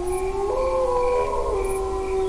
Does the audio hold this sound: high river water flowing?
no